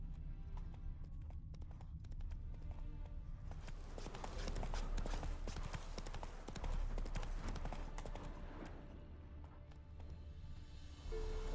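Hooves of Roach, a horse in The Witcher 3, galloping in a steady rapid clip-clop that runs for several seconds, loud and close over a low rumbling background.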